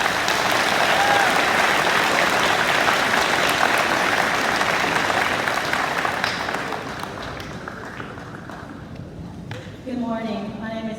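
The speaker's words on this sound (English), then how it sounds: "Let's give these a round of applause." An audience at a high school awards day fills the room with loud, continuous applause that gradually thins and fades, giving way to a voice beginning to talk near the end.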